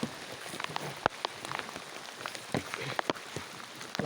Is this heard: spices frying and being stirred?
no